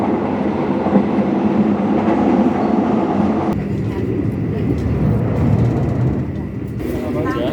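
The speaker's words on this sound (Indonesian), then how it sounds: "kereta api Argo Semeru akan bertemu dengan kereta api Joglo Semarkerto" A passenger train rumbles past on the rails with a steady, heavy roar, wheels clattering continuously throughout, as the Argo Semeru express crosses the Joglo Semarkerto on an Indonesian railway.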